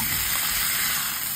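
Buttered shrimp sizzling steadily in a hot pan while being stirred, a continuous close, bright frying hiss with no talk.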